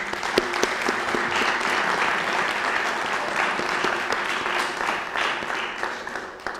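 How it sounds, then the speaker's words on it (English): A banquet audience applauds warmly, many hands clapping together at a steady level that thins slightly toward the end. "Please join me in a round of applause to recognize Jen's amazing accomplishments."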